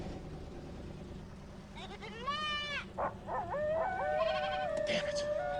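A sheep bleats in several wavering cries, some drawn out and some short, over a low steady background hum.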